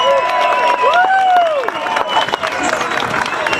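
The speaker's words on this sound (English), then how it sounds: "And also another round of applause for Beaker because he's back." An audience at EPCOT applauds and cheers for Beaker at the Muppet Mobile Lab, an outdoor crowd clapping steadily under a loud amplified voice and squeaky character sounds.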